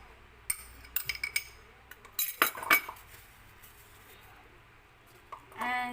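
A spoon clinks and scrapes against a bowl as butter and other ingredients for a banana cake are mixed, in bursts of busy tapping, a brief quiet stretch, then a final flurry of scraping.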